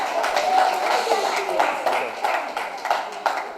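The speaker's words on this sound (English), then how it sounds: "Okay, give him a round of applause," An audience claps in a round of applause at a traditional summer instrument workshop graduation ceremony, with steady, moderately loud clapping from a crowd and talk mixed in throughout.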